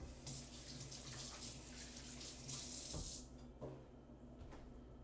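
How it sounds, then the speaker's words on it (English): Hands rinsed under a running water tap at a sink, a steady close splashing hiss that thins out near the end, with a few small knocks and drips. "I'll rinse my hands off."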